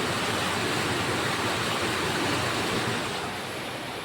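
A waterfall running after heavy rain in a misty setting, carrying muddy water: steady, loud broadband rush of falling water, continuous throughout and easing slightly at the end, with no voices.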